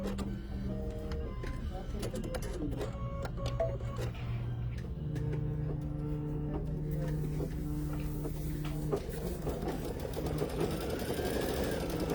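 An embroidery sewing machine stitches a satin stitch with a rapid, steady mechanical whir and clatter that shifts in pitch as it runs, close by and moderately quiet.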